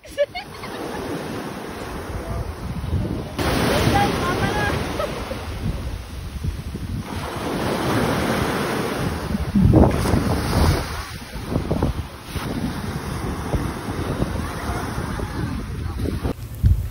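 Surf breaking on a beach with strong wind buffeting the microphone, a steady loud wash of waves rising and falling throughout, with faint voices now and then underneath.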